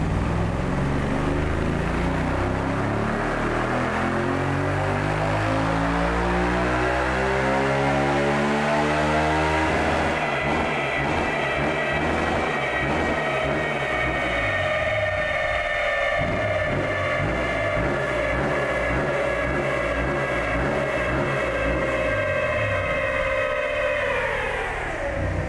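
A Yamaha Tenere 700 World Raid motorcycle revs hard on a dyno, the engine climbing steadily in pitch, then holding a loud, sustained high-rev roar before dropping off at the end, close and continuous throughout.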